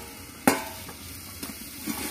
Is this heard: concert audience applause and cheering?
no